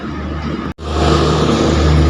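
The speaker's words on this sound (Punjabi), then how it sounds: "ਓਏ ਗੱਡੀ ਦੀ ਆਵਾਜ਼ ਦੇਖੋ ਕਿੰਨੀ ਹੈ ਜਨਰੇਟਰ ਦੀ" A loud vehicle engine runs with a heavy, steady, generator-like drone close by. It cuts out for an instant, then comes back at full strength and keeps droning.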